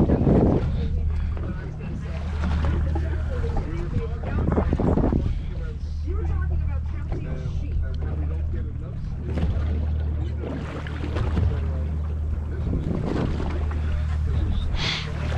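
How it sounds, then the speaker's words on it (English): A boat out on the water off New England during a black sea bass fishing trip gives a steady engine drone under gusty wind buffeting, with people talking over it. "I can hear the chatter boat."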